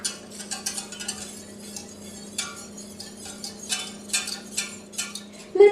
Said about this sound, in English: Stir until the cornstarch dissolves completely into the coconut milk.